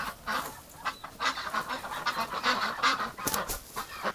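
Ducks honking and quacking inside a barn in winter, a steady overlapping chorus of calls with frequent loud bursts, close by and continuous.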